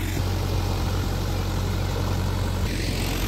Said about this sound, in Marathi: ट्रॅक्टर सुरू आहे.